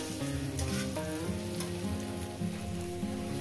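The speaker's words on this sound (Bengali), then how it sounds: "এটা লোতে দিয়ে একটু নাড়াচাড়া করে একটু কষিয়ে নেব" Kachki fish sautéing in a pan on low heat, a steady close sizzle and crackle of frying with faint stirring, continuous throughout with no talk.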